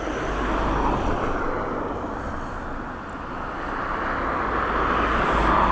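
Airbus A330 inbound from San Francisco on approach to land at Dublin Airport in crosswind conditions, a steady broad roar of jet engines mixed with wind rumble, fairly loud and continuous without speech.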